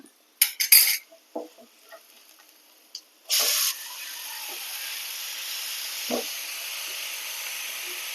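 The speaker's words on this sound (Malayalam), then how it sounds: "നന്നായിട്ടൊന്ന് ഇളക്കി കൊടുത്ത ശേഷം" A spatula clanks against a pan a few times while cooked beetroot stir-fry is stirred, sharp metallic knocks followed by a soft, steady sizzle and hiss.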